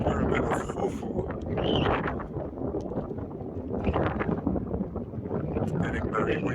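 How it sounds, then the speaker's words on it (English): Strong wind gusts outside the Great Pyramid of Khufu at Giza, roaring steadily and buffeting the microphone throughout, with muffled voices partly buried beneath the rumble. "It's getting very windy again."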